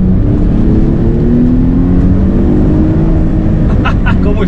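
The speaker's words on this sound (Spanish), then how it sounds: "¿Cómo estira este motor V6?" The 3.0-litre V6 of a Mercedes SLK 280 R171 drones loudly and steadily from inside the car, its pitch climbing gradually as it revs, with a voice briefly heard near the end.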